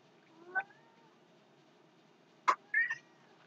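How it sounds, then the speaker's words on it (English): A pet cat gives a faint meow, then after a pause two more short meows close together, quiet against a soft room background with no talking. "Oh, come in, Miss Kitty"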